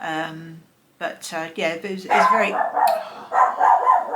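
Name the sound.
dog barking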